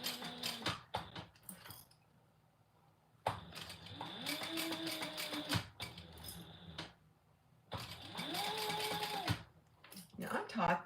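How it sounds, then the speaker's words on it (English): Bursts of a sewing machine running fast while top stitching a vinyl clutch, with a whirring motor and rising pitch in each run, separated by pauses with handling noises and a voice talking. "Now I'm top stitching from the inside, and I'm just using the edge as my guide"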